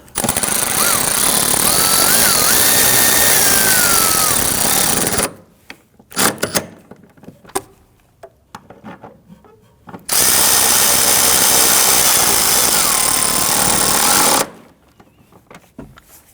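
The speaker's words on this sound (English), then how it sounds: "Let's go ahead and snug down these bolts." Power tool snugging down rear shock absorber bolts on a 2009-2017 Volvo XC60, two long loud steady whirring bursts separated by quieter clinks and handling noises, no talk.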